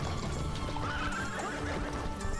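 Horse neighing and galloping in the video game Clive 'N' Wrench: a loud whinny rises over dense, continuous hoofbeats and clattering, heard alone without talk.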